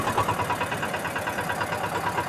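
An Eicher 312 tractor engine running during an early-morning ride, a steady, rhythmic mid-pitched chugging with a slight knock, close and continuous.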